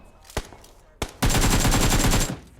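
Gunfire in PUBG Mobile: two sharp single shots a moment apart, then a loud sustained burst of rapid automatic fire lasting about a second, close and dominant with no talk over it.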